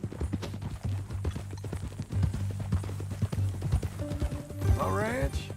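Horse hooves clip-clop steadily in Red Dead Redemption 2, a close, rhythmic trot under men's conversation, with a short whinny near the end.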